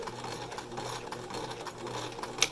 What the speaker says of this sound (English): And then I'm gonna do a back stitch.